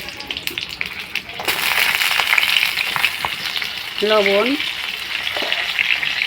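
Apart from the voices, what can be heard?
cut pointed gourd (potol) frying in hot white oil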